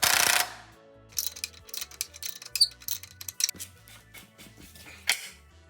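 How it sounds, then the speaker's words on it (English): A ratchet wrench tightens a big nut on the steering linkage of a two-wheel-drive Toyota pickup, giving bursts of close, sharp clicking strokes after a brief initial noise, with short pauses between pulls. "And now, tighten this big nut."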